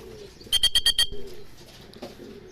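A racing pigeon arriving at its loft during derby training in Tarlac makes low coos. A quick burst of rapid flapping or clapping pulses with a bright chirping tone sits in the middle, close and fairly loud.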